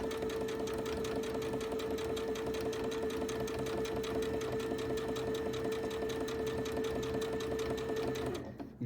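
Sewing machine free-motion quilting a small blue fabric pot, running close and steady with a fast even stitching rhythm for nearly the whole stretch before stopping at the end.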